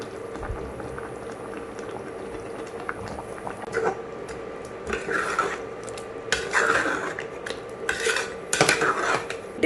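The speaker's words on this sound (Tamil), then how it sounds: "அந்த முந்திரி பாதாம் பேஸ்ட்டை சேர்த்துடலாம்" Cashew and almond paste being stirred into a pot of Mughlai mutton curry, a bubbling simmer with scraping spoon-on-pot stirring strokes that come in short bursts, close and moderately loud, with no one talking.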